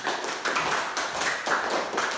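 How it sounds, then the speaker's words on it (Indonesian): A classroom of elementary pupils claps together in a primary school lesson, a quick, dense patter of hands repeating in short bursts, moderately loud and close with no talking over it. "Berikan tepuk tangan untuk kita semua."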